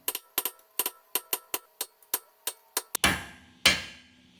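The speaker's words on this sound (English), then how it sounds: "Then pound in the divot to lock it in place." Sharp metallic hammer blows staking the axle nut divot on a Honda Civic front hub, about a dozen evenly spaced close strikes followed by two heavier ringing hits.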